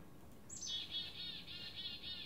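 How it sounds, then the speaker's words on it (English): Black-capped chickadee call from Vancouver, a single high, thin whistled note sustained for about two seconds, faint and alone over low background hiss. "Black cap chickadee."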